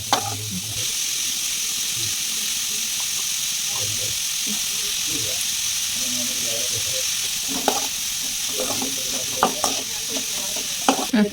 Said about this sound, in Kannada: ಇದು ಈರುಳ್ಳಿ ಸ್ವಲ್ಪ ಬೇಯೋವರೆಗೂ ಹಾಗೆ ಫ್ರೈ ಮಾಡ್ಕೋಬೇಕು.